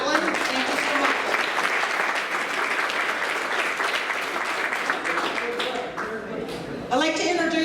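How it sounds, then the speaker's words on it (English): Audience at a women veterans' celebration gives loud, sustained applause for the honor guard, singer and chaplain, filling the room before fading just as a voice begins speaking. "A round of applause for our honor guard, our singer, our chaplain."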